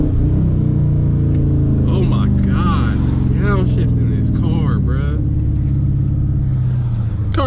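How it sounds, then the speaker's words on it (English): Dodge Charger/Challenger with active exhaust delete heard from inside while driving, a loud, deep, constant exhaust rumble with a downshift burble, as people talk and laugh over it. "you wanna hear a downshift?"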